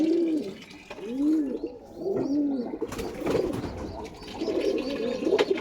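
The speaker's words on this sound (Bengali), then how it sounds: "এটা নর পায়রা" Male domestic pigeon cooing nearby in a series of soft, rounded, repeated coos, with light rustling and other faint bird sounds around it.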